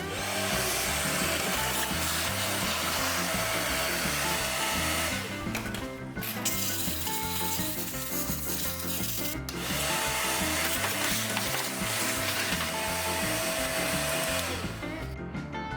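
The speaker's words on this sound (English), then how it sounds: "Good thing I didn't put the vacuum cleaner away." A vacuum cleaner roars continuously while cleaning out the engine of an abandoned 1926 Ford Model T Touring, loud and close, its pitch wavering as the nozzle moves and briefly chokes off twice.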